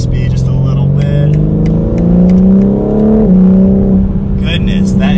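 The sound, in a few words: sports car accelerating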